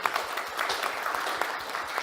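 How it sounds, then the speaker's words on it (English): Scattered applause from a small panel-discussion audience at a programming-language conference, fairly faint and thin, with a few claps standing out from a steady patter over two seconds. "give this guy a round of applause"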